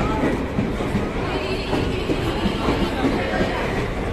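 A train pulls into a station on a platform crowded with waiting travellers. Its rumble and rail clatter run steadily beneath people talking nearby.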